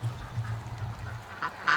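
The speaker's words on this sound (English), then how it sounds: "here's this little hurt duck" A small injured duck gives a few short, soft honking calls over a faint low hum, the last two calls brief and slightly louder, with no talking.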